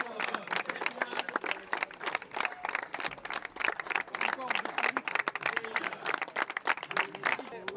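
Audience applause at a French televised event, a steady, fairly faint patter of many hands clapping with voices mixed in throughout.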